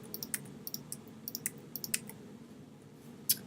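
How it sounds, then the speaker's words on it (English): Computer keyboard keys are pressed during a stop-motion editing session: a quick, irregular run of light clicks and taps, close up and fairly quiet, with one sharper click near the end. "we're going to do that by hitting F5 on our keyboard"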